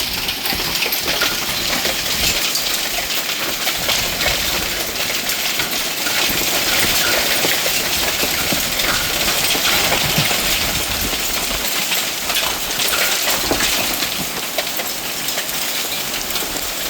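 Hail during a severe storm in northeastern Illinois, with damaging wind gusts, clatters loudly and steadily on hard surfaces, with dense metallic ticking and rattling mixed with a rain-like roar throughout.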